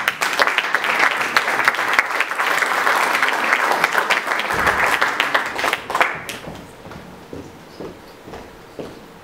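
Audience applause at a Slovenian entrepreneurship awards event, Podjetna Primorska 2014, a dense, steady round of clapping from a crowd that thins out into scattered, separate claps toward the end.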